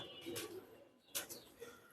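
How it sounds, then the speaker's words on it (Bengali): A pet pigeon coos softly a few times in a quiet indoor setting, with brief soft bursts of sound between the low calls and no talking. "সুন্দর কবুতর এটাও"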